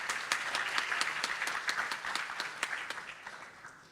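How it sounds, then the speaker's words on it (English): A live audience at an economic report launch event applauds with dense, steady clapping, with a few sharper individual claps standing out before it gradually fades toward the end. "A big applause to Paraden."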